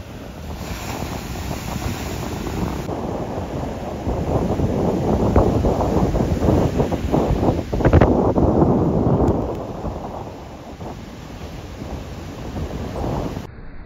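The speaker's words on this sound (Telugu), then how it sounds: "చూసారా రాయి కొట్టుకొని అలలు లెగొస్తున్నాయి" Ocean waves crash against rocks at a Vizag beach, a loud rolling surf roar that swells to a peak midway and then eases, with heavy wind rumble on the microphone.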